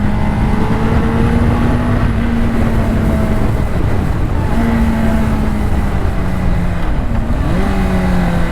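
A Honda CBR600RR motorcycle engine drones steadily while being ridden on the road, loud and continuous with shifting pitch as revs rise and fall, mixed with wind rush and no talking.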